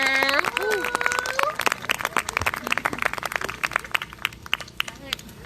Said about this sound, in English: Round of applause for the panelists, please.